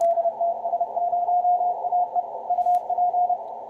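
A steady CW tone on ham radio keyed in rapid dots and dashes, sending a call sign with UP, a clear continuous pitch broken into Morse rhythm over faint radio hiss, fairly loud and close.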